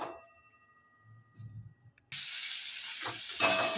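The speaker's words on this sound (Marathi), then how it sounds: "मिरची मिरची भाजाय टाकणार आहे आपण" Green chillies roasting in a pan: after quiet clinks and near silence, a sudden loud steady sizzle bursts in and holds to the end, with faint stirring knocks.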